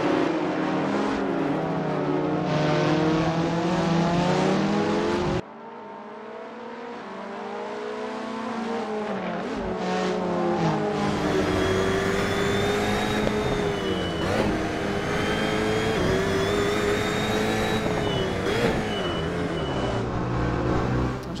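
An Alpine A110 GT4 race car engine in Assetto Corsa revs and shifts through gears on track, a loud, continuous engine note rising and falling, briefly dropping before climbing again.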